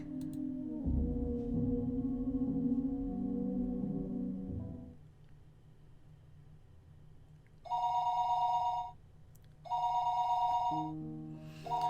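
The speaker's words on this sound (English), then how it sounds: "The phone rang noisily downstairs." A telephone in a visual novel game rings in two bright, loud electronic bursts after a stretch of background music, each ring lasting about two seconds with a short pause between.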